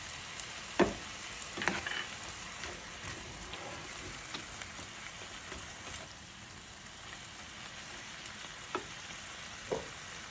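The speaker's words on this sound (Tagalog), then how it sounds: "Then, ihalo-halo lang din natin hanggang mag-combine" A hoisin sauce mixture fries with a soft, continuous sizzle while being stirred in a pan, with occasional scraping taps of the utensil at a quiet level.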